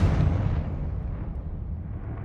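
A Confringo explosion spell in the video game Hogwarts Legacy: one heavy, booming blast that hits loud at the start, then rumbles and fades away over a couple of seconds.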